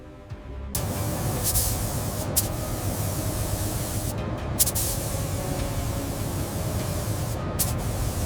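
Spray gun applying clear coat over dark red paint on a 1966 Ford Bronco, a loud, steady broadband hiss that starts abruptly and runs continuously, with a few short bright interruptions.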